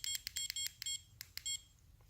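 An ISDT BC-8S battery charger sounds its cell-imbalance alarm, a run of quick, faint high-pitched electronic beeps in an irregular rhythm, alone in a quiet room.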